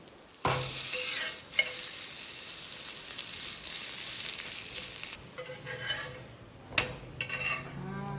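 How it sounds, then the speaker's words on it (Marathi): An onion bhakri flatbread roasts on an oiled tawa with very little oil, giving a soft, continuous sizzle with a few sharp clicks and scrapes from a utensil. "त्याच्यातसुद्धा ही भाकरी छान अगदी कमी तेलात भाजून निघते"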